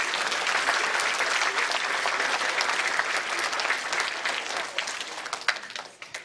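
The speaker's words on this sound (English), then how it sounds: "Give them another round of applause." An audience applauds at a taekwondo tournament, the ITF Ontario Cup, with dense steady clapping that holds for several seconds and then thins out toward the end.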